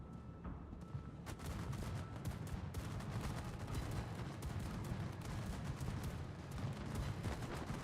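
Dense, continuous naval gunfire and anti-aircraft bursts from a World of Warships battle, rapid overlapping shots and booms forming a constant rumbling barrage, with no talk.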